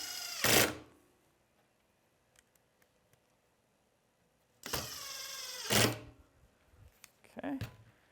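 Screws are driven into a vehicle bumper during assembly with a power screwdriver, which gives two short, close whirring bursts separated by quiet gaps, and a voice speaks briefly near the end.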